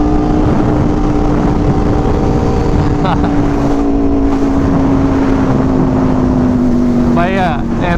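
A Yamaha R1M fitted with a stainless steel decat exhaust rides along, its engine holding a steady, droning note close by with some wind and road noise mixed in.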